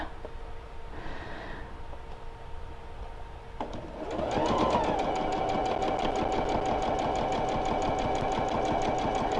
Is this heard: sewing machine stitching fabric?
yes